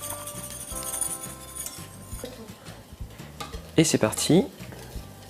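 An agar-agar mixture is stirred in a saucepan as it comes to a boil, with a utensil scraping and clinking against the pan and a few sharp knocks near the end, under brief French speech.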